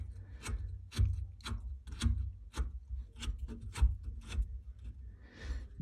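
A compression fitting nut being tightened onto a water shutoff valve under a bathroom sink, heard as a series of close, sharp metallic clicks and ratcheting scrapes at an irregular pace, with no talking.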